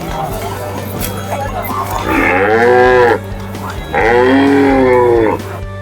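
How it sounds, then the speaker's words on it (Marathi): Two long, loud moos from a cow at the Lasur Station cattle market, each lasting about a second, over a constant background murmur of the crowded market. "बघू शकता एकच नंबर गाय आहे"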